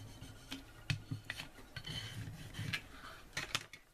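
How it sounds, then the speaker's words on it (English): A scraper rubs and presses vinyl onto a glass jar in quiet, uneven scratchy strokes, soft rasping drags and small taps close by. "I'm going to use my scraper. Get that down real good."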